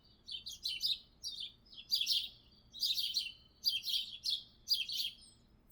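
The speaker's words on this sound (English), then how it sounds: "The birds are chirping." Birds chirping in a quick series of bright, high tweeting bursts, about five clustered phrases spaced roughly a second apart, clear and fairly close over a quiet low background.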